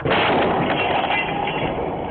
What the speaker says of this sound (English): The powerful explosion caught on a doorbell camera, lighting up the sky.